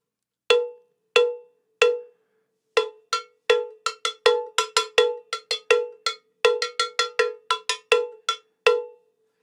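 A refinished, hand-painted cowbell with no tape or padding inside, struck by hand in a loose rhythm that starts with a few spaced hits and then grows denser, each strike a short, close, muted metallic clank.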